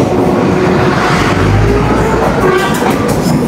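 A train arriving at an Indonesian railway station, with a loud, broad rumble of wheels and engine close by and a faint horn-like tone rising briefly above it.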